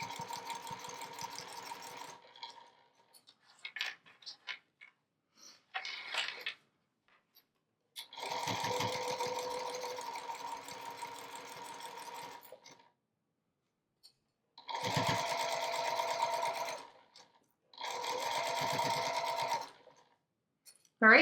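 Sewing machine stitching around the edge of a Minky fabric blanket in a home sewing room, running in several bursts of a few seconds each, separated by quiet pauses and small clicks.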